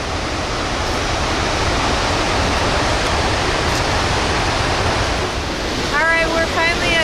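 Gullfoss waterfall in Iceland roars as a loud, continuous broadband rush of falling water, close and unbroken, with a voice briefly heard near the end.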